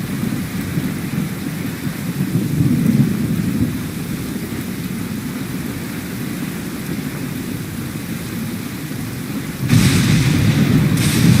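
Steady rain pours across a Genshin Impact game scene, a dense continuous wash with deep rumbling thunder underneath that swells louder near the end.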